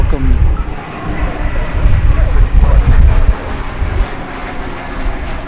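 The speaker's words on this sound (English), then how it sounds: "American 617 coming in on an Airbus A321" American 617, an Airbus A321 arriving from Las Vegas at DFW airport: a loud, rumbling engine roar close by that stays steady throughout, with some wind noise on the microphone.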